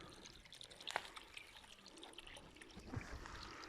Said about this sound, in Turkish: Burası Çinili Göl. Evet su akıyor.